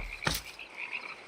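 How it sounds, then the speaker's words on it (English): A single short croak from a frog in the video game Minecraft, sharp and fairly close over a faint steady background hum. "Look at the frog!"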